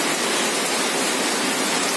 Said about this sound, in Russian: Ливень, это балкон.